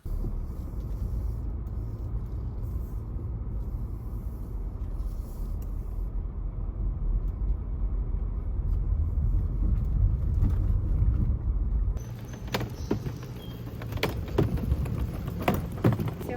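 Steady low road rumble from inside a moving car on the drive home, continuous throughout, with faint wind and brief higher clicks and noises toward the end.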